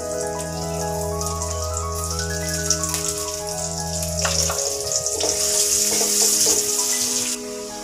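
Garlic sizzles in hot oil for a dal tempering, the frying rising about halfway through and growing more crackly, while steady tonal background music plays throughout.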